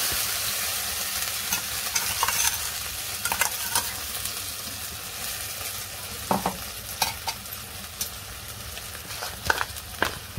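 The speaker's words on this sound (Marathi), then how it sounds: "आता ह्या तुपामध्ये ना हे सगळं अद्रक टाकून घ्यायचं।" Ginger fries in hot ghee in a kadai for ginger chikki, a loud steady sizzle with repeated scraping stirs and spatula knocks close by, and no talking.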